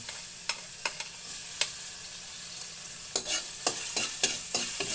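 Garlic sautéing in a pan while cooking squid in coconut milk with vegetables; a soft sizzle runs under sharp, scattered stirring clicks that grow busier toward the end, with no talk.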